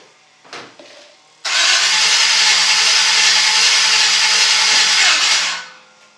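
A 1951 Chevy truck engine cranks on its first start attempt: a couple of brief knocks, then a loud, steady starter-and-engine roar holds for about four seconds before dropping away, with no talk.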